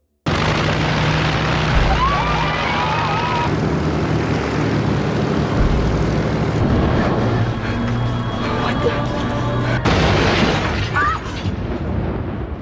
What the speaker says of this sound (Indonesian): Tak butuh waktu lama bagi Laura Lee untuk menerbangkan pesawat itu